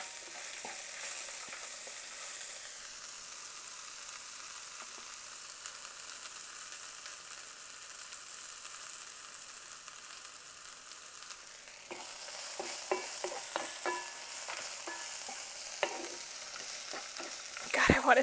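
Chilies fry in a pan for vegan General Tso's, giving a steady, dense sizzle that runs throughout and turns louder and more crackly in the second half, with sharp pops and stirring clicks near the end.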